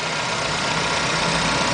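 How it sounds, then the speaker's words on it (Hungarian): 1.3-litre 92-horsepower Suzuki petrol engine in a Suzuki Swift idling smoothly, a steady, even hum heard close up with no voices. "tökéletesen jól jár a moci"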